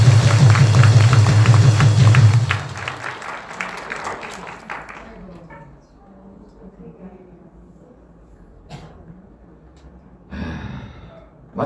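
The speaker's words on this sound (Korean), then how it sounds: "그래서 다시 한번 유튜브 여러분들에게 박수를 좀 보냅니다." Audience applause at a patriotic rally for YouTubers, a loud dense burst of clapping close by that fades after a few seconds into quiet murmur and breathing, with a brief return of noise near the end.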